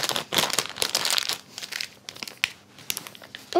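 A plastic piping bag is handled and filled with cannelloni stuffing in a kitchen, giving close, irregular crinkling and rustling with bursts of crumpling and short pauses, and no one speaks.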